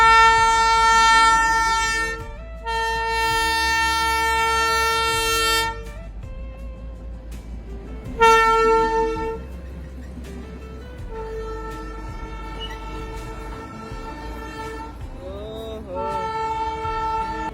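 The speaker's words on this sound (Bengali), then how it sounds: "তো গাইস টয় ট্রেন আছে" The Darjeeling toy train sounds its horn in long, loud tonal blasts, several separated by short gaps, over a low rumble of the running train nearby, with faint voices in the background.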